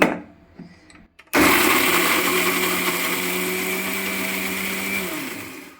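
A mixer grinder whirs loudly and steadily as it grinds garlic and cumin, starting abruptly after a brief quiet moment and running continuously to the end.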